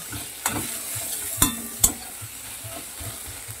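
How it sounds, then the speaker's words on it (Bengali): Garlic paste frying with onions in a pan, with a steady sizzle under scraping spoon strokes and a few sharp clinks against the pan. "রসুনটাকে আমি মিনিটখানে এই পেঁয়াজের সঙ্গে ভেজে নেব।"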